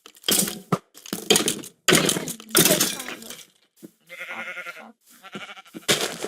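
Minecraft sheep give several short, bleating calls in bursts with brief gaps between them, followed by a more tonal, wavering bleat near the end.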